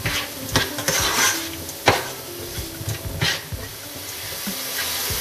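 Rice with curry, water and salt is stirred in a pan over high heat, with a soft sizzle beneath repeated scraping and knocking strokes of a utensil against the pan, close and moderately loud.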